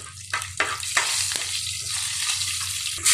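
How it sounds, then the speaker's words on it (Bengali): Potatoes, carrots and beans sizzle steadily in a pan with fenugreek, nigella seeds and bay leaf, a dense close frying hiss broken by several sharp stirring scrapes. "আলু গাজর শিম নিয়ে ভাজি করব মেথি দিলাম কালি জিরা দিলাম তেজপাতা দিলাম"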